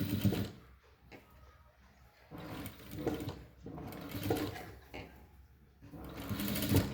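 Sewing machine stitching saree fabric into an umbrella dress, running in several loud bursts separated by brief pauses, with a voice heard at moments alongside.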